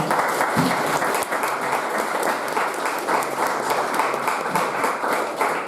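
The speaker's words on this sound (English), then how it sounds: "they deserve a big round of applause for being here" Audience applause for county magistrate debate candidates in a live studio, dense steady clapping from a full crowd, loud and sustained throughout.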